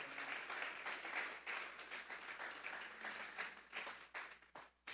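A church congregation claps together in a sustained round of applause, rhythmic bursts rising and easing before fading out near the end.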